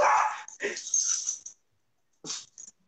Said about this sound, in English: My dogs hear the dog in the background.